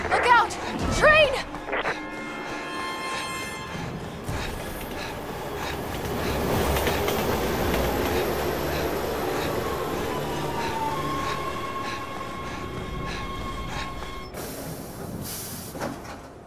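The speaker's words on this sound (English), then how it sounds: "Look out! Train!" A train in the Resident Evil 6 video game rumbles and hisses as it approaches, a broad rushing roar building under game sound effects and tonal hums, with brief sharp clanks near the start and end.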